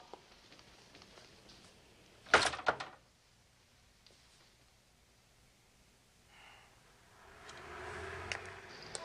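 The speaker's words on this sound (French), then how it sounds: "Et fermez la porte derrière vous en sortant." A door in an indoor scene of a San Francisco police drama shuts with one sharp, loud thud and a short rattle, followed by near silence and faint movement.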